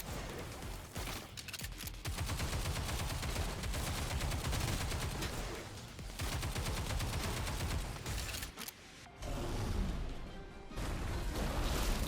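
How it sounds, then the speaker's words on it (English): Bombs exploding in Goddess of Victory: Nikke, a loud, dense barrage of rapid blasts and crackling bursts that runs almost continuously, broken by a couple of brief lulls. "Those are the bombs in Nikke."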